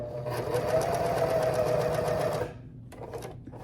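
A sewing machine hemming silk edges runs in a steady, fast stitching whir for about two and a half seconds, then stops, followed by a few faint handling clicks nearby.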